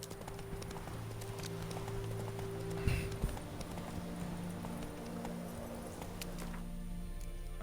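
Roach, the horse in The Witcher 3, trots along with a steady clip-clop of hooves over a low ambient game background, with one brief louder thump partway through.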